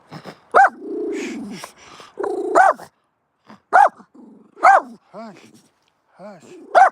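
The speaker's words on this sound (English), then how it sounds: "Then you don't bark, okay?" A dog in Goldfield, Nevada, gives sharp, close barks in separate bursts, with low growls and whimpers rumbling between them. A person speaks softly at times.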